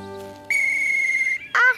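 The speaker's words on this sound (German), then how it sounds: "Eine Trillerpfeife." A shrill whistle is blown in one sustained blast, then a short warbling trill at the end; soft tones sound briefly before it.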